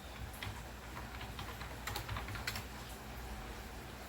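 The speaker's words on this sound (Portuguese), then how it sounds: "Aqui eu estou digitando, mas você usou o scanner." Keys clatter on a computer keyboard at a point-of-sale terminal, a quick irregular run of close, crisp taps over a low steady background hum, with no voices.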